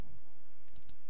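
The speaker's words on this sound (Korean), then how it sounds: "마우스 오른쪽 단추를 누르고 난 다음에 삭제도 가능하고요" Two quick, crisp right-clicks of a computer mouse close together in an otherwise quiet room.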